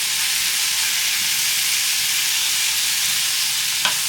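A medley of vegetables sautés in a pan, giving a steady, loud, close sizzle that hisses without a break. One small clink is heard near the end.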